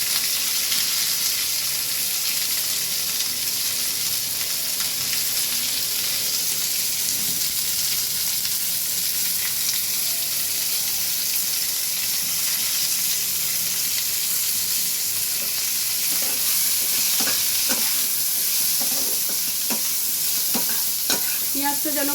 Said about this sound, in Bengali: পেঁয়াজটা ভালো করে ভেজে নিতে হবে।